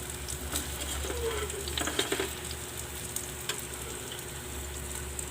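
Pork patties sizzle steadily in a hot pan, a continuous crackling hiss with a few sharper pops and scrapes from stirring.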